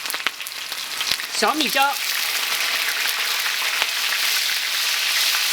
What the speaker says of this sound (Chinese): 这个油温烧热了，下入洋葱和姜